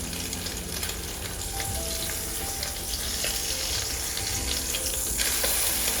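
Salmon patties made of egg, salmon and salt fry in a pan with a constant, close crackling sizzle that grows slightly louder toward the end, alone without speech.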